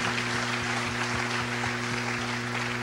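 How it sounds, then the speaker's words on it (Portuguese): A church congregation applauds steadily, a dense wash of clapping that holds at an even level from start to finish, with a faint hum underneath and no voices. "Pode aplaudir ao Senhor, né?"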